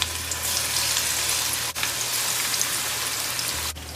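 Marinated tilapia or salmon sizzling skin side down in a hot pan, a steady dense crackle that stays loud and even throughout, with no voices.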